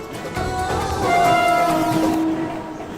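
A Mumbai local train rolls past close and loud, wheels rumbling on the rails as a long two-tone horn sounds through the middle of the pass.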